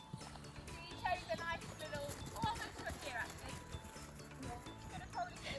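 Rhythmic hoofbeats of a pony cantering and taking a jump in a riding lesson, steady clip-clop with occasional snorts, under a rider talking.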